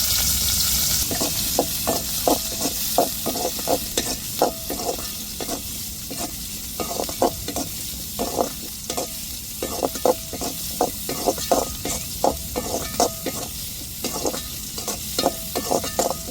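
Onions and tomatoes fry with mustard seeds in a pan, a soft sizzle running beneath regular bursts of scraping stirring strokes that come in quick rhythmic runs with short pauses between them.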